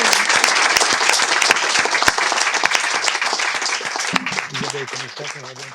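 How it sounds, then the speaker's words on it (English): Sustained audience applause at a lecture event, dense rapid clapping from a large crowd filling the space at steady loudness, with a voice emerging over the clapping near the end. "They deserve our applause"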